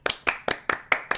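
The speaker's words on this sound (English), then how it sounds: "Claps." Six sharp hand claps in an even, quick rhythm, close and fairly quiet, with no talk over them.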